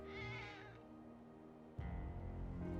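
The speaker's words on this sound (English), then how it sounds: "Oh, more kitty cats?" Several cats meowing inside the video game Final Fantasy 7 Rebirth, a high mewing call up front followed by a steady music-like game ambience that swells louder near the end, no speech.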